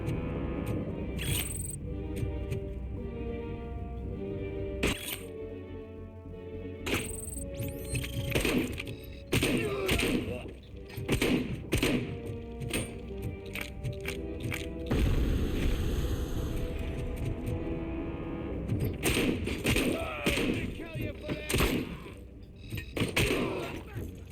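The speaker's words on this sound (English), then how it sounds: "They love throwing grenades, man." Grenades explode during combat in the video game RoboCop: Rogue City. Heavy blasts and thuds are packed into dense, loud game sound, with gunfire and someone talking over it.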